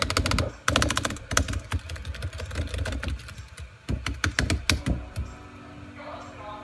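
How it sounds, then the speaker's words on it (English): Computer keyboard keys hammered in rapid bursts on a 2011 MacBook Air while trying to skip a Minecraft Story Mode cutscene, with dense clattering flurries broken by short pauses and a voice briefly talking over them. "I pressed like all the buttons on the keyboard to skip it"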